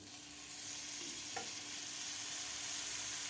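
Buttered bread for masala toast, Iyengar bakery style, sizzling butter-side down in a pan: a steady, fairly quiet frying hiss that holds evenly throughout, with a soft scrape partway in and no talking.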